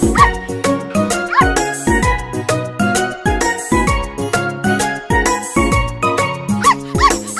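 A puppy barks and yips repeatedly in quick bursts over a bouncy children's rhyme backing with light jingling, the barks loud and close throughout.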